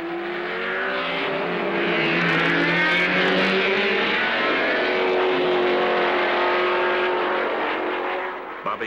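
Race cars roar around a 1970s racetrack as the field is released behind a departing pace car, engines loud and continuous with layered revving tones from several cars passing close, swelling and fading slightly near the end.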